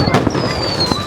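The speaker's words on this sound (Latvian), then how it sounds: "Šitāds mūsu salūts ir." Private New Year fireworks bursting nearby, loud sharp cracks and booms with a whistling tone trailing across the short burst, voices faintly underneath.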